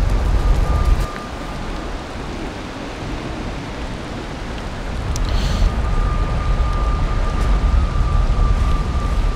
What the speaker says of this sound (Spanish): Uy, hasta acá pega la lluvia